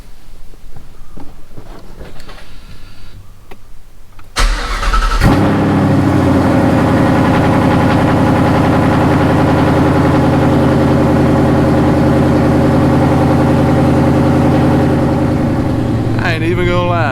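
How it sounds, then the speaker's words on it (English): A Coyote-powered 2016 Mustang GT with a T56 Magnum XL swap cold-starting: quiet rustling, then the starter catches and the V8 fires up loud and close, settling into a steady, rumbling high idle. "let's get that cold start."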